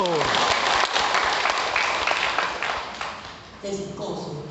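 An audience at a Buddhist hall talk bursts into clapping, a burst of close applause that fades, with a voice speaking over it near the end.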